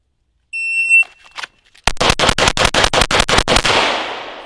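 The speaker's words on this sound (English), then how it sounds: "Yeah, full 10-round mag dump." A shot timer gives a single high electronic beep, then after a short pause a pistol fires a full 10-round magazine in rapid, evenly spaced, very loud shots that ring out briefly at the end.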